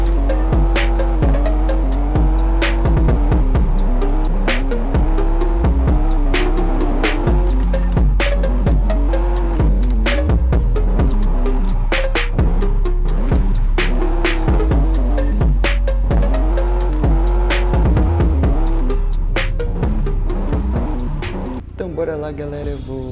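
In the mobile driving game Car Parking Multiplayer, a Ford Mustang engine revs hard and rises and falls in pitch while drifting, with loud tire squeal throughout.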